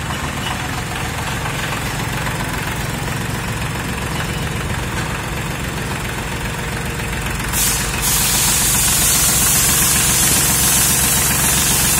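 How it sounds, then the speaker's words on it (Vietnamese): A P21F tractor with a three-cylinder engine idles steadily close by, a loud even knocking chug that continues throughout, with a brief hiss and a slight rise in level near the end. "Rồi anh để động cơ lên thử xem coi."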